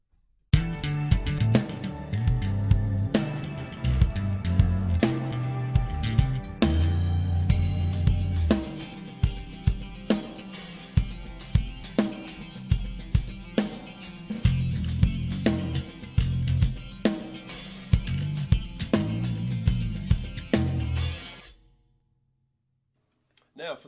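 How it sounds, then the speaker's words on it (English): Drum kit intro playing a bass drum and snare pattern in triplet feel with cymbals, loud close hits in a steady rolling rhythm that stops abruptly near the end, no talking. "so you just heard that bass drum, snare drum thing, the pattern that I just played you,"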